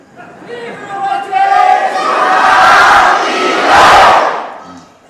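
Devotees at Shri Guru Basaveshwar Virakt Math, Billur, roaring a jaikara victory chant, a leading call followed by a loud massed shout that rises in two surges before dying away.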